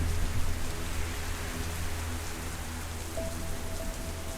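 Steady rain falls outdoors and patters on surfaces in a continuous, even wash of noise, fairly close, with a faint low tone running underneath and no talking.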